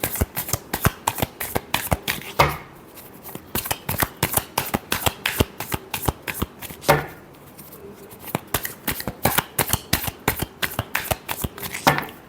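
A deck of tarot cards is shuffled steadily, with rapid loud riffling flicks running continuously up close and brief pauses between bursts.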